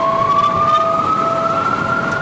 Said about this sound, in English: Sirens echoed eerily in the distance.